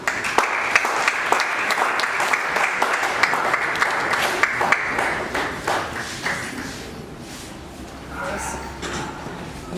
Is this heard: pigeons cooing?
no